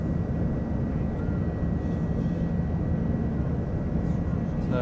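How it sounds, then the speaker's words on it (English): An Aer Lingus airliner rolls down the runway at Manchester for takeoff, a steady loud broadband roar of engines and rumble heard from inside the cabin, continuous for the whole stretch. "We are going down the runway. So there we go, down the runway."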